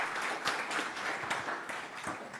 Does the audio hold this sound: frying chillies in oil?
no